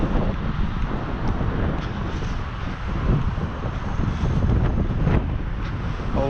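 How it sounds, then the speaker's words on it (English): Strong wind on a waterfront buffets the microphone in a constant, loud rumbling roar, with no other distinct sounds standing out. "it's a windy day"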